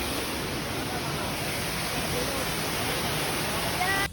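Cambugahay Falls on Siquijor Island in the Philippines gives a steady, dense roar of rushing water, heard up close as a constant wash of noise throughout.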